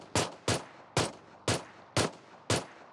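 Pistol fire in PUBG Mobile, six sharp evenly spaced shots about half a second apart, loud and close, with no voices over them.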